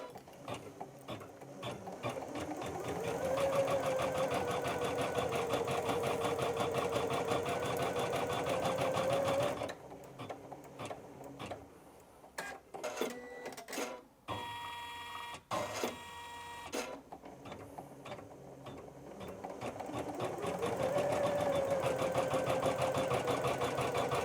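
A Janome Memory Craft 550E embroidery machine stitching in grey thread, a steady loud mechanical whir with a fast needle rhythm that stops midway, leaving brief clicks and clunks before the stitching hum starts up again.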